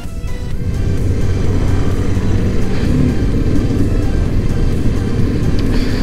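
A Royal Enfield motorcycle rides along after a tyre pressure and alignment fix, its engine a loud, close, continuous rumbling thrum that holds steady for several seconds with no voices.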